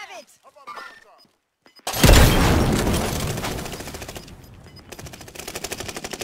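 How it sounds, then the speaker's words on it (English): Heavy gunfire in Warzone Resurgence: after a short lull, a loud burst of rapid automatic shots erupts and continues as a dense rattle before easing into steady repeated firing, with talk from players at the start. "He's shooting at me."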